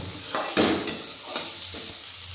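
Onions and tomatoes frying in a pan while pasta sauce is cooked, a steady close sizzle with a few soft stirring scrapes and light clinks of a utensil against the pan.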